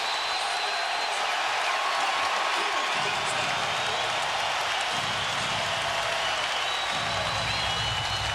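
A basketball arena crowd roars and cheers as the Suns stretch to their largest lead against the Spurs. The sound is a loud, continuous wash of cheering that swells further partway through.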